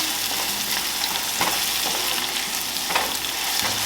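Garlic and onions frying in a pan over a moderate flame while making mushroom and pea risotto, a steady broadband sizzle with a few soft stirring scrapes, close and continuous with no voices.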